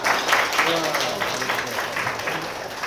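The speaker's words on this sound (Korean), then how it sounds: "다시 한번 큰 박수 부탁드리겠습니다" Guests at a first-birthday party give steady group applause, which runs beneath a voice talking loudly throughout.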